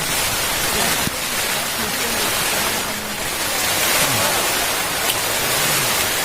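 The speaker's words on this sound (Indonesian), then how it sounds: "Angin kencang, hujan," Steady broadband rush of heavy rain and strong wind in a storm on Mount Sindoro, loud and constant throughout with faint low rumbling underneath.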